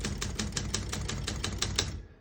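Rapid, evenly spaced key strikes on a 1968 Olympia SM9 vintage portable typewriter, about a dozen crisp clacks up close with no talking, ending abruptly.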